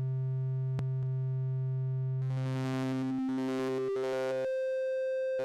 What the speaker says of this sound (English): VCO1 also features a continuous hard sync with VCO2 as the source.